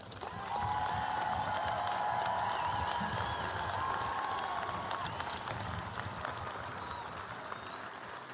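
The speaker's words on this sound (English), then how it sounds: "Let's give the class of 22 one more round of applause." A large crowd applauds the graduating class of 2022 at a high school graduation ceremony, a sustained distant wash of clapping with a tonal drone running underneath, fading only slightly over the whole stretch.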